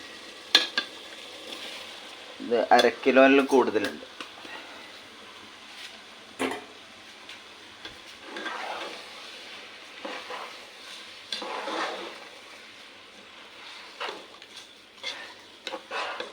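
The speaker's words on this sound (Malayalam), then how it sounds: "ഇനി ഇതിലേക്ക് അരി ഇട്ട് കൊടുക്കുക." Soaked rice frying in masala in a pan, stirred with a spoon in bursts of scraping and clattering over a light sizzle, including one louder, longer flurry of stirring, with someone talking briefly.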